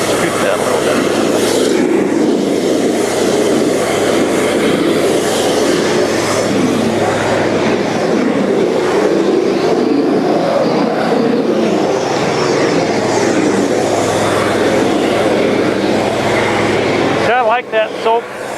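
Cold water jetter engine revving up steadily, a loud continuous drone under a spray hiss that holds for about seventeen seconds before cutting off abruptly, with people talking over it.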